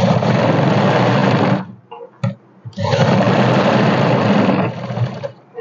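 Sewing machine running steady straight stitches through ladies' suit fabric, loud and close, in two long continuous bursts separated by a short pause with brief handling noises.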